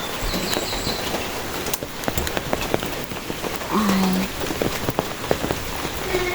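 Rain falling steadily around a house in the rainy season, a dense continuous patter on surfaces with a person's brief exclamation and a few louder drips.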